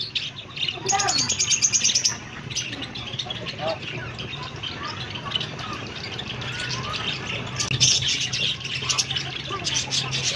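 Small yellow budgies, Australian parrots kept for breeding, chirp and tweet busily in a dense, continuous chatter with sharp squawks, someone speaking quietly over the flock.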